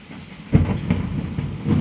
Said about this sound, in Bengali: বাহিরে প্রচুর বৃষ্টি হচ্ছে মেঘ ঝিলিক দিচ্ছে আর সেই শব্দটাও চলে আসছে